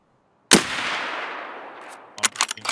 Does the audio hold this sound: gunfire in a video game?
yes